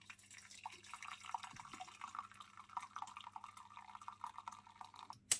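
Hot water trickles and drips into a saucepan around a Christmas pudding bowl, a faint, steady pouring with small splashes and a sharper clink at the end, no one talking.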